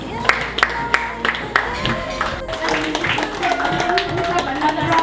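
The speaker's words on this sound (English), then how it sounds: "Have another round of applause for our teachers" A school audience claps and cheers after a student presentation: sharp, scattered hand claps build into a fuller round of applause, while voices in the room carry on underneath.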